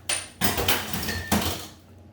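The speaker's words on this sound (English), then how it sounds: "Now we just mix it and stir until it gets warm enough." A whisk scrapes and knocks around a pot while cream puff dough is stirred over heat, giving a few loud metallic clanks followed by softer scraping, near and alone.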